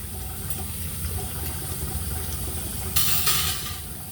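Dishes being washed under a running kitchen tap, a steady close hiss of flowing water with a brief louder splashing burst near the end.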